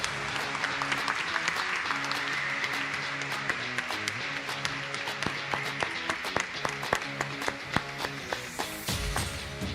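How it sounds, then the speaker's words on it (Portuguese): An audience claps for participants at the end of a business management lecture, with dense, continuous applause that turns into sparser individual claps near the end. "Uma salva de palmas para os participantes."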